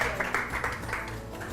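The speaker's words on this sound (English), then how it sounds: "Clap for you." Students in a ninth-grade classroom clapping for a brief moment, a few scattered claps fading out quickly, mixed with faint room noise.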